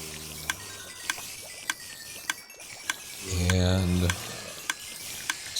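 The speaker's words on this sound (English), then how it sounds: "That's the sound of the items being pushed up the dropper elevator." A Minecraft dropper elevator pushes items upward with evenly spaced, sharp clicks ticking along, joined by a brief louder burst midway, all fairly faint and with no clear talk.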